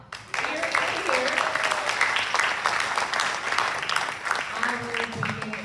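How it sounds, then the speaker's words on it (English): Audience at a town candidate forum breaking into applause, a dense, sustained wash of clapping starting abruptly and continuing at steady volume, with some voices mixed in. "I'd actually like a round of applause for everybody that showed up here and here"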